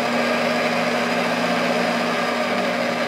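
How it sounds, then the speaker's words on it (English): A Milwaukee magnetic drill runs at a constant speed, giving a loud, even motor whine and hum that holds without change, with no talk. "And then you can turn on your drill."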